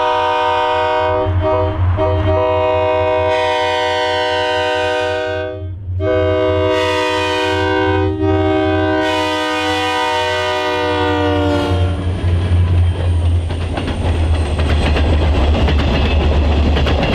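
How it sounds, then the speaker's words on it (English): A loud locomotive horn blares in long chords as EMD 4-axle diesel locomotives rumble past, followed by the rushing clatter of a freight train rolling by nearby in Utah. "It was a pleasant surprise to see EMD 4-axles in charge of the train"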